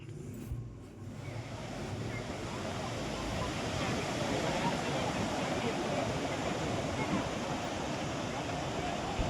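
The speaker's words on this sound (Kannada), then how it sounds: "ನೀರು ಜಾಸ್ತಿ ಇರೋದ್ರಿಂದ ಅದು ಸೌಂಡ್ ಕೇಳೋಕ್ಕೇ ತುಂಬಾ ಚೆನ್ನಾಗಿರುತ್ತೆ" Barachukki waterfall at Shivanasamudra roars continuously with heavy water flow, a dense steady rush filling the whole clip at close range.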